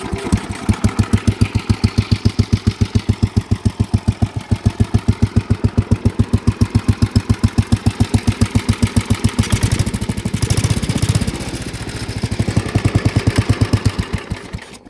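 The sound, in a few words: Harley motorcycle engine started and running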